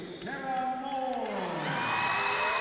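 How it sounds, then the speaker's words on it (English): A crowd at a women's high school basketball state championship game cheers in a sustained roar, with rising whoops and shouts layered over it. "this crowd loves it either way"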